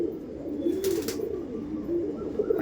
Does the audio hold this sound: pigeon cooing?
yes